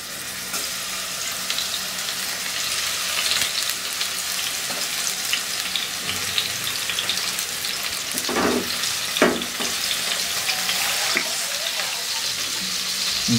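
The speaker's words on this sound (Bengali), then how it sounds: "মাছটাকে কিন্তু চারদিক মিলে সমানভাবে ভেজে নিতে হবে" Rohu fish rubbed with turmeric and salt frying in hot oil, a dense continuous sizzle with a few sharper crackles and pops midway, close and fairly loud with no talking.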